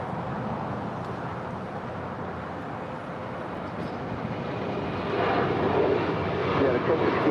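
United flight 1069, an airliner departing LAX for Chicago O'Hare, rumbles as a broad steady engine roar that builds louder toward the end, heard from a distance.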